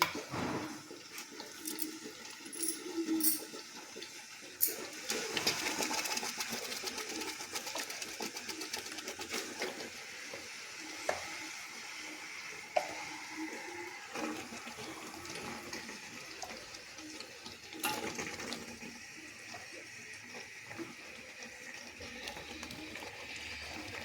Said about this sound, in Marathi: यातच मी आता हे चिकन जे आपण धुवून घेतलेले आहे व्यवस्थितरित्या ते टाकत आहे